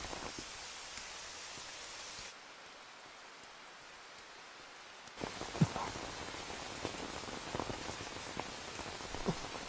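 Rain falls steadily as a continuous hiss, dropping quieter for a few seconds before returning heavier with scattered distinct drips and patters, no speech over it.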